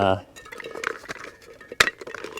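Metal clinks and a few small knocks from a camping stove attachment being screwed onto its stand during a hiking loadout, a brief bright clank near the end, with faint voice at the start.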